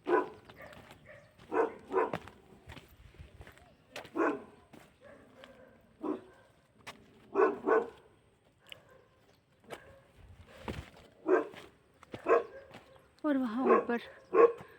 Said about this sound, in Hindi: तो ये कुत्ता मुझे देख कर के इतना भौंक रहा था,